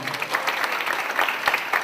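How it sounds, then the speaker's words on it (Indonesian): Audience applause at a presentation session, a short, lively burst of many hands clapping close and fairly loud, with scattered sharper claps standing out. "Tepuk tangan dong."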